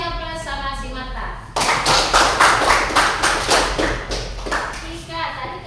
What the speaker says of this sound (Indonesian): Kasih aplaus sama si Mata.